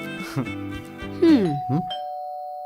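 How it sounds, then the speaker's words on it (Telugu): A doorbell chimes in a home, its two-tone ding-dong sounding clearly with ringing tones that linger and fade at the end, mixed with some background sound. "కాలింగ్ బెల్ కొట్టారు, వెయిట్."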